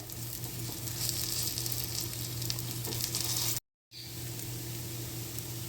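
Spinach and potato balls shallow-fry in a little oil with a steady, even sizzle close by, broken by a brief full silence before the hiss resumes.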